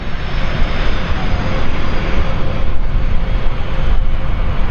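A jet airliner roars steadily overhead at the Farnborough Airshow, a loud, continuous broadband engine rush with no break across the whole stretch.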